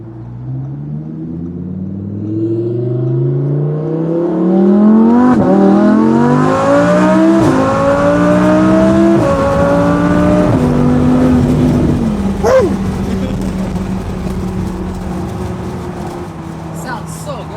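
Audi R8 V10 with a Fabspeed valved exhaust accelerating through the gears, rising engine tone with shift drops and a loud, steady rumble heard from inside the car, with faint exhaust gurgles after easing off.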